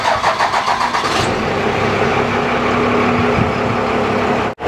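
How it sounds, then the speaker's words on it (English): A Cummins diesel pickup truck engine cranks with a rapid rhythmic starter chug for about a second, then catches and settles into a loud, steady idle close by, ending with an abrupt cutoff. "So let's go ahead and turn the truck on."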